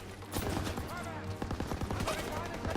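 Gunfire from the World War II shooter game Call of Duty: WWII, a run of sharp shots crackling in bursts amid game noise and music, with someone talking over much of it.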